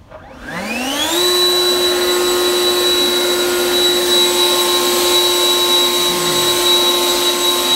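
An ECHO 58-volt brushless cordless leaf blower spins up with a rising whine, then runs loud and steady with a high-pitched motor tone and rushing air close by.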